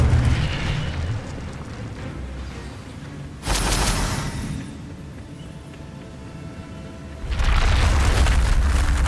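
Fire spell effects in the Hogwarts Legacy video game, two loud booming bursts of flame several seconds apart over a low rumbling background.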